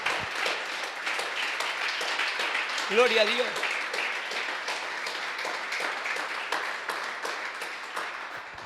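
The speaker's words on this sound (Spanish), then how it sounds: "Den un aplauso bien grande al Señor porque se lo merece" A church congregation applauds continuously, a full wash of clapping that holds steady throughout, with a single voice calling out briefly partway through.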